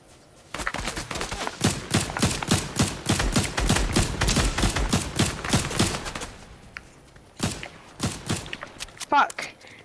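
Rapid bursts of gunfire in Fortnite crack out in a dense, rhythmic string for several seconds, then thin to a few scattered shots, with a player's voice briefly audible near the end.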